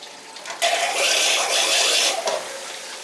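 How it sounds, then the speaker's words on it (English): Water rushes steadily into a leaking washing machine drum for a couple of seconds, a broad hissing pour that swells and then tapers off. "I'll put water in it now."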